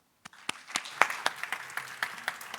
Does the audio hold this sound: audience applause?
yes